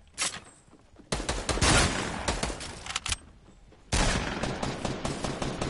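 Gunfire from the Fortnite Battle Royale video game, with a sniper rifle being drawn: several loud, sharp blasts and bursts separated by brief pauses, close and dominant with no voices over them.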